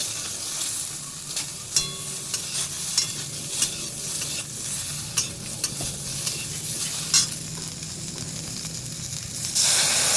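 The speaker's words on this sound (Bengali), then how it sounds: "আবার ভালো করে নেড়ে নেব।" Okra with turmeric, taro and salt being stirred in a frying pan, a close sizzling hiss punctuated by irregular scraping stir strokes, with a louder burst of sizzle at the very end.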